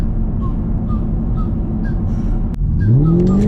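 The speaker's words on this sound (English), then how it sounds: "she just keeps on pulling through the gears, man" A supercharged Chevrolet Camaro SS accelerates through the gears: a steady close engine rumble, then a sudden shift into a rising, climbing engine note that keeps pulling, with no talking.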